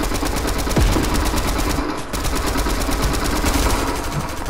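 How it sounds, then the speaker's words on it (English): Sustained rapid gunfire from players shooting in a Fortnite battle royale match, a steady, loud stream of shots running the whole time. "They're shooting us from up high."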